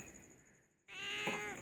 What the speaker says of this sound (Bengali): কাকা ডাকছে, কাকা কাকা ডাকছে